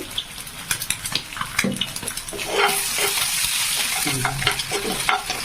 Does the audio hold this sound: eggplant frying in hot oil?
yes